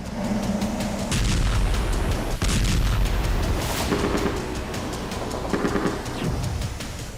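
Heavy booms and blasts from Russian drone strikes on Ukrainian cities rumble through a dense, continuous roar, with sharp bursts standing out; loud and chaotic throughout.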